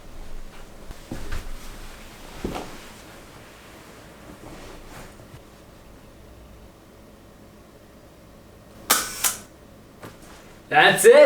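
A 4x5 large-format film camera fires its shutter with a flash, a sharp close click coming after a quiet stretch of faint handling noises and a few soft bumps, followed by more rustling.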